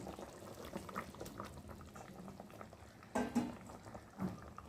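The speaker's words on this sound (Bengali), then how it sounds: "আর এখন আমি আলু ঝোলের মধ্যে ডিমগুলো দিয়ে ভালো করে ফুটিয়ে নেব।" A pot of egg and potato curry bubbles at a steady boil, with soft continuous burbling and a few louder pops of liquid close by.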